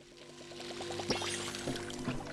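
Water pours steadily as plants are watered in the video game Palia, a soft continuous trickle backed by a gentle tonal game hum, with a couple of small splashing accents.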